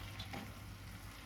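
Potato and squid filling for a Moroccan seafood tagine is stirred in a pan, giving a steady close sizzle and soft scraping throughout.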